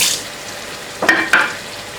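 Parsley being stirred into a cooked stuffed-pepper filling in a pan, two short scraping stirs close by over a soft hiss, with no talk.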